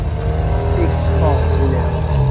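A naturally aspirated V8 car engine hums and revs nearby on a street, with a voice talking over the engine noise.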